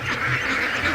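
Ducks quacking in a dense, steady chorus, fairly close, with continuous nasal calls overlapping throughout the short moment.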